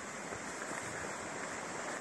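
Steady roar of a waterfall, a dense broadband rush of falling water close by, constant and unbroken with no voices.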